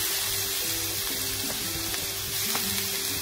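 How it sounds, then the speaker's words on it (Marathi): Grated carrots frying in hot ghee in a pan for Marathi-style carrot halwa, a steady close sizzle with faint stirring and clinks throughout. "त्याच तुपामध्ये आपण आपलं गाजर टाकून घेऊ।"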